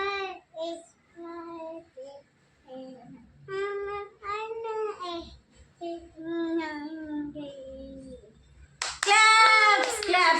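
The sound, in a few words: hands clapping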